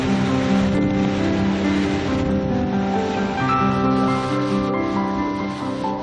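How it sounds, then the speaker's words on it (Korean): Waterfalls pour down steep cliffs in rain in New Zealand, a steady broadband rush of falling water that stays even and fairly loud throughout with no voices. "솟아오른 기암절벽에 수많은 폭포가 흘러내립니다."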